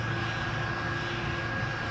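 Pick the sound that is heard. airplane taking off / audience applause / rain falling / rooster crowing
airplane taking off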